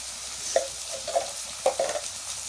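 Garlic and cumin paste, turmeric, salt and green chilies frying in a pan for a village-style fish curry, a soft steady sizzle broken by several short stirring scrapes.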